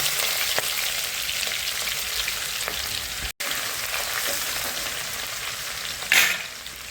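Curry leaves and spring onion fry in hot oil with a steady close sizzle, a brief dropout midway and a louder crackling burst near the end, with no talk.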